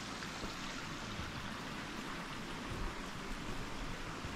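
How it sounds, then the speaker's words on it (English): A creek flows steadily in an outdoor wooded spot, a faint continuous rushing wash of water with no breaks and no voices. "You got the creek down here."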